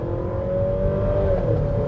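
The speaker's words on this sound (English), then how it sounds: "doing an acceleration test, full throttle" A 2025 MG HS 2.0T 170 kW SUV accelerates at full throttle, its engine holding a steady, droning whir that climbs slightly in pitch, heard from inside the cabin with no talk.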